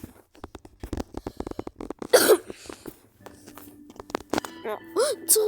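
A couple of harsh coughs burst out mid-clip between bits of close speech, with quieter clicks and voices around them while slither.io is played.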